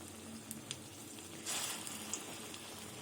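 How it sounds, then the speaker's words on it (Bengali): Flattened masoor dal fritters crackle in hot oil with a soft, steady sizzle, a brief louder hiss surge and scattered faint pops, heard alone without talk. "তেল গরম হয়ে গেছে এবার বড়াগুলো আমি একটু চ্যাপটা চ্যাপটা করে ভেজে নেব এই যে তেলে দিয়ে দিলাম"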